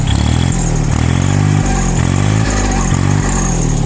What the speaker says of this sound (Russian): Работает двигатель достаточно чисто.